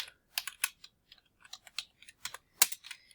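Someone types code on a computer keyboard in short, irregular bursts of close, crisp key clicks with brief pauses between them, and no voice is heard.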